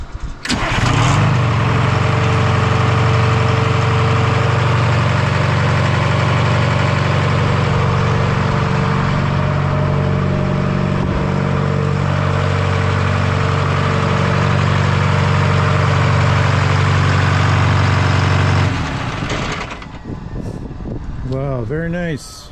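A turbocharged Detroit Diesel 4-53T two-stroke on a dyno roars at full fuel and maximum load, a loud, steady, continuous drone that then drops away to quieter running near the end while a voice talks over it.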